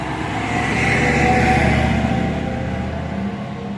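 A bus bound for Mylva pulls away in a small village street, its engine rumbling loud and close before easing off as it moves away; no one speaks.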